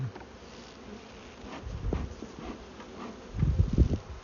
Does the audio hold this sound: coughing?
no